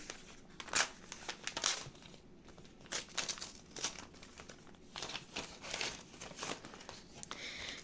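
A packet holding a cosmetic face mask is torn and opened by hand, giving quiet, close crinkling and crackling in irregular bursts of plastic rustle over several seconds, with no talking.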